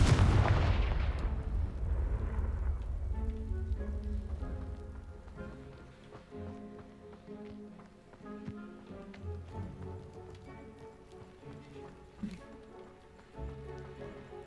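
A Confringo fire spell blast in Hogwarts Legacy, a loud booming explosion at the start that decays into rumble and scattered clattering debris, followed by quieter game ambience.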